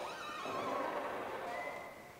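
Creaking ambience in an Animal Crossing room plays as a steady, mid-volume groan of strained wood with drawn-out tonal whines and no talk over it.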